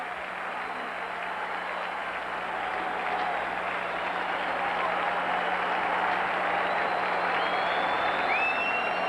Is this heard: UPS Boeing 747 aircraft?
no